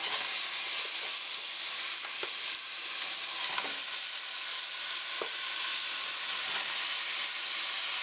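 Oxtails searing in hot oil, a loud continuous sizzle with occasional sharp pops and crackles over about eight seconds, close up and without any talking.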